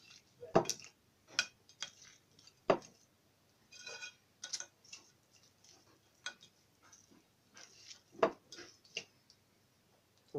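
Spicy goat meat and its seasonings being mixed together in a bowl, giving a run of irregular soft clicks, taps and wet squishes, close and fairly quiet with no talking.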